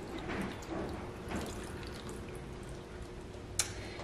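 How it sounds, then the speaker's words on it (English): Water splashing steadily as one cup is poured into a container for a homemade bubble solution, a soft continuous trickle close by, ending with a small clink. "I'm gonna take my container and I'm gonna pour my 1 cup of water"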